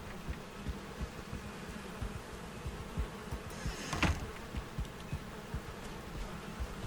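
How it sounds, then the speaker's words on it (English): Bees buzzing around hives in the Valheim video game, a soft continuous drone with small pulsing swells and one brief brighter swish partway through, no voices. "Or back to the bees."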